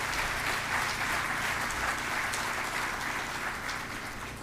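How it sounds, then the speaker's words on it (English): An audience at a celebration of excellence applauds its faculty and staff, a dense, continuous wash of clapping that holds steady and fades slightly toward the end. "It was a round of applause to our dedicated faculty and staff."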